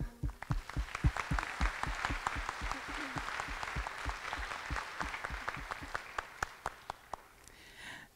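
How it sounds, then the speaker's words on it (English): A modest audience at a pageant claps for the contestants, with individual hand claps standing out crisply in a quick, uneven rhythm that thins toward the end. "Let's give a round of applause to all the contestants."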